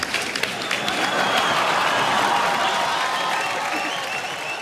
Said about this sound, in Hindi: उसके लिए जोरदार एक बार ताली बजनी चाहिए